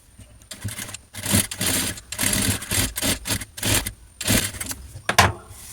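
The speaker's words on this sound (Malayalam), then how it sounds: "ഇനി ഇതിൻ്റെ അരികിലായിട്ട് നമുക്കിത് സ്റ്റിച്ച് ചെയ്തെടുക്കാം" A sewing machine stitches lace along a fabric edge in short whirring bursts, about eight runs separated by brief pauses, close and fairly loud with no talking.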